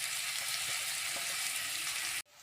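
Onions fry in hot oil with a dense, loud hiss of sizzling that runs steadily for about two seconds, then cuts off abruptly and returns much quieter, with no voices.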